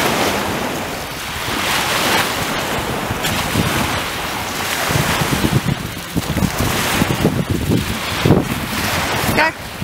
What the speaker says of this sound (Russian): Азовское море.